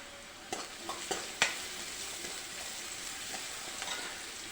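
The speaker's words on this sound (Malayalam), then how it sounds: "നമ്മുടെ സവോള വഴന്നു വരുന്നുണ്ട്." Chopped onions with a pinch of salt sizzle gently in a pan, faint and steady, with a few sharp scrapes and clicks of a spoon stirring them.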